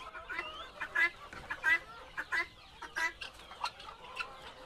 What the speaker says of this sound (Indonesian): Sama ini ayam